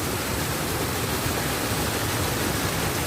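Water pours continuously over a small three-channel waterfall, a close, uniform roar of splashing flow with no pauses or other sounds.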